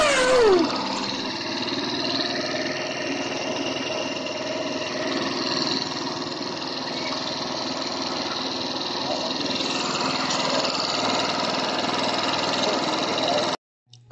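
A TVS 110 automatic scooter engine runs steadily after a DIY throttle cable fix, a close, continuous buzzing idle that holds for many seconds before cutting off abruptly.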